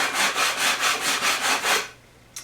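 A big sanding board is pushed back and forth across a boat's lower hull in about eight steady, even rasping strokes, close and loud, then stops with a short knock.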